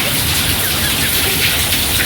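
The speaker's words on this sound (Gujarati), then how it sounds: "વરસાદની તો બહાટી બોલે હો." Rain falls steadily, a dense, loud, even hiss of drops that fills the whole short stretch without a break.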